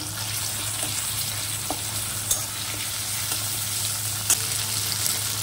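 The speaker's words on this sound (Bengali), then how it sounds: "টমেটোটা একটুখানি ভাজতে দেবো। এবার দিলাম দেখো আদা বাটা" Tomato and ginger paste frying in a pan, a steady close sizzle with a low hum beneath and a few faint clinks from the spoon.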